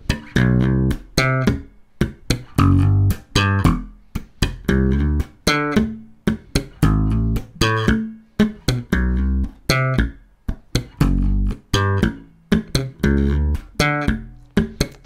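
Slap bass line played on electric bass, a repeating plucking-hand pattern of thumbed low notes, muted ghost notes and popped high notes in a tight funky rhythm, loud and close with no talking.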